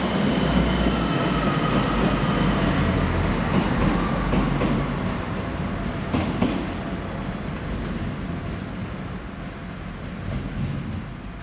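A Transport for Wales class 175 diesel train at Crewe station rumbles past close by, its engine droning loudly over the clatter of wheels, then slowly eases off as it moves away.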